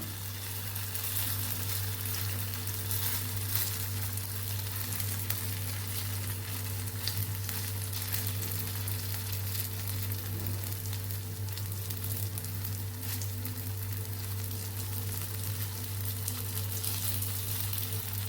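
Millet flour pancake batter spread thick in a pan, cooking over a low gas flame with a steady, soft sizzle and faint frying crackle throughout, alongside a constant low burner hum.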